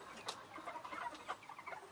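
Chickens and roosters on a poultry farm with black roosters and blue hens, giving faint, soft clucks and murmurs close together over a couple of seconds.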